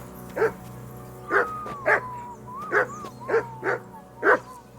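Dog in the video game Kingdom Come Deliverance II barks repeatedly, about seven evenly spaced woofs at moderate volume, with thin whining tones between barks over a steady low background drone.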